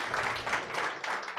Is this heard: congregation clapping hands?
yes